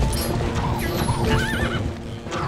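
Horse neighing and galloping in the Zelda Twilight Princess video game, a whinny over a steady run of hoof clip-clops, close and clear with game music underneath.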